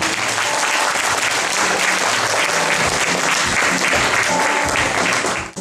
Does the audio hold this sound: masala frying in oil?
no